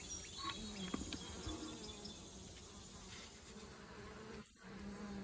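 A small swarm of honeybees gives off a faint, steady buzzing hum that holds evenly for the whole stretch, with a brief dip near the end.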